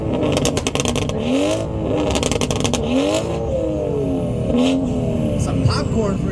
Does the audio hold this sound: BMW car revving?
yes